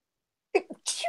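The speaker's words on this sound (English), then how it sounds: "Excuse me, I might sneeze." A single loud, close sneeze bursts out after a long silence, a sharp intake followed by a breathy, hissing explosion.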